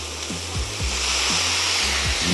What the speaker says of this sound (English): Make sure you got that sizzle.